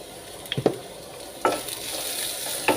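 A spatula scrapes and stirs chopped carrot with fried mustard seeds and dried red chillies in a hot pan, with a few distinct clanks over a soft, steady sizzle.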